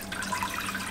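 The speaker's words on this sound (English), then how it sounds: "I'm gonna get 2 Yeti cups full of water here for my measuring cup" Water runs from a tap into a Yeti cup, a steady splashing fill that rises in pitch slightly, close and fairly loud with no talk.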